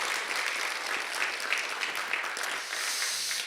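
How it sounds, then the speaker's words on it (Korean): A church congregation at a Sunday afternoon service applauds a choir: steady, dense clapping from many hands throughout, fairly distant and even, with no voices standing out. "박수로 한번 격려해 주시죠"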